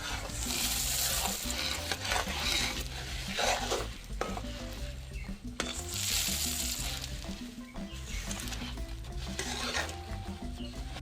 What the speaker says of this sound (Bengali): অল্প অল্প করে মুড়ি দেবো আর মেশাতে থাকবো